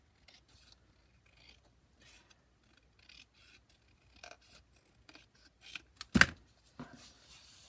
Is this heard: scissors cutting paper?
yes